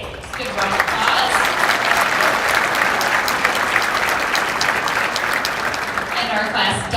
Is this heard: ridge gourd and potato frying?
no